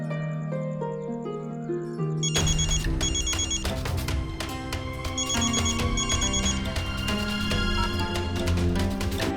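A telephone ringtone plays as a call is placed in a TV drama, a repeating melodic chirping ring that starts after a soft musical tone and continues steadily over background music.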